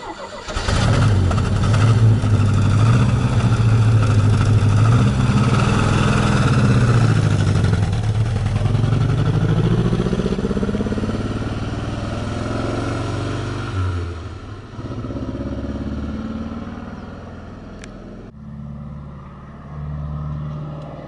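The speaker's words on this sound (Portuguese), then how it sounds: "A gente vai sair agora para dar uma volta com o carro" A 1978 Chevrolet Opala engine rumbles loudly up close, revving and pulling away on a drive, its low drone rising and then settling to a steadier cruising hum as the car moves off.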